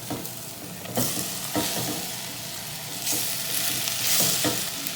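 Onion and garlic sauté in a pan as octopus goes in for a seafood risotto, a loud continuous sizzle punctuated by several sharp scraping stirs and bursts of hissing.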